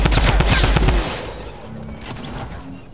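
Video game gunfire in a squad battle match: a rapid burst of loud, close shots fired in quick succession for about a second, then a quieter stretch of game ambience.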